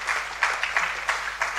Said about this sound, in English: you all deserve yourselves a round of applause for the excellent performance that you have exhibited here